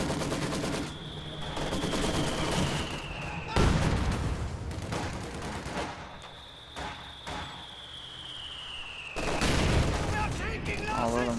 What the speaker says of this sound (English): Although the mortar fire is helping